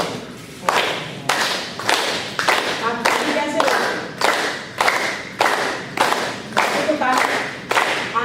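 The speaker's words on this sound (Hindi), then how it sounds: "ताली करते हैं, कैसे बजाते हैं" Hands clap in a steady rhythm during a laughing yoga session, about a dozen sharp, loud claps evenly spaced, with a voice speaking briefly between them.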